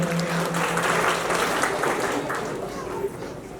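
Applause from a school audience at a tenth-anniversary celebration, welcoming the management: dense, steady clapping from a crowd that stays fairly loud throughout, with some voices mixed in.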